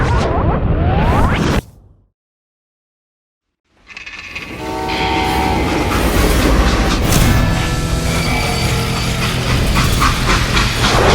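Freight train in the Call of Juarez Gunslinger video game rumbles loudly, drops to a brief near-silence, then returns with a rolling rush, clanking wagons and a horn-like tone.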